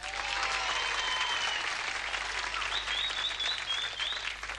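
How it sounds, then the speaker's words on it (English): Studio audience applause at a televised burlesque contest, steady and full throughout, with a few whoops and whistles rising above the clapping. "we'd like to hear your applause at home and everybody here in the studio"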